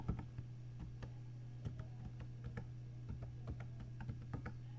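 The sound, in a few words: typing a password on a computer keyboard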